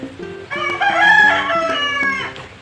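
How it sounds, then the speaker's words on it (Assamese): A single loud rooster crow rings out close by, long and drawn out, with no other sounds around it. "মুৰ্গী এতিয়াহে ডাক দিছে"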